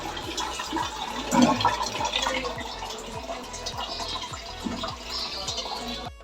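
Water is poured into a pot of kadhi batter made with ground gram flour, a continuous splashing, gurgling fill that runs steadily for several seconds with no talking.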